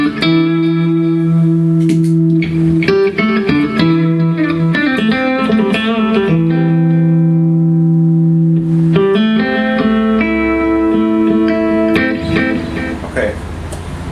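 Electric guitar played through a Tone Freak Effects Severe overdrive pedal with delay and the compressor switched off, sustained distorted chords and ringing notes filling the clip loudly and continuously.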